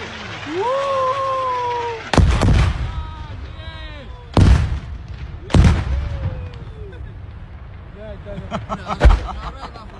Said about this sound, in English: Russian soldiers videotaped airstrikes on Ukrainian positions